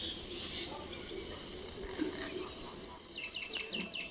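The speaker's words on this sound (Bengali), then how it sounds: "শালিক পাখিটা কিরকম ডাকছে দেখলে" Common myna birds call from an overhead wire, quick high chirps and tweets in rapid bursts, faint against outdoor background noise.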